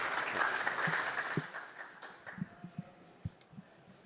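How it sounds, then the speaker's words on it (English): Applause from a conference panel audience fades out quickly, leaving a few scattered, isolated claps trailing off in a large room. "let's just do another round of applause"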